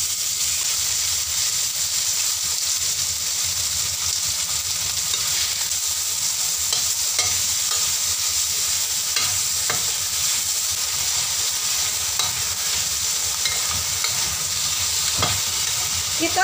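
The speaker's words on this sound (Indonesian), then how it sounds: "kita panaskan wajan dengan minyak, lalu kita goreng daging sapi yang sudah kita marinasi tadi." Continuous sizzling and crackling of marinated beef frying in hot oil in a wok, steady and close, with occasional scraping stirs; no talk.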